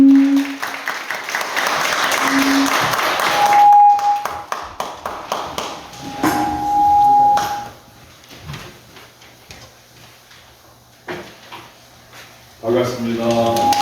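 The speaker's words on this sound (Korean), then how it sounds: "모두 박수로 맞이하겠습니다" A church audience at an autumn retreat breaks into sustained applause to welcome a pastor to the front. The clapping fades into scattered knocks and taps, with voices speaking.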